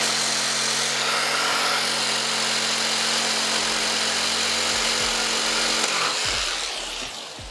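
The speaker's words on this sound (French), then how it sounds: "il fallait qu'on coupe la palette en deux maintenant" A power tool whines steadily as it cuts a wooden pallet in two, a loud sustained buzzing grind that holds for several seconds before winding down near the end.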